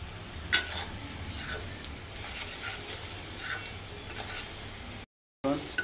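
Chili and cumin powder masala is stirred in a pan, a soft sizzling bed under intermittent scrapes and metallic clinks of the spoon against the pan, close and moderate in level.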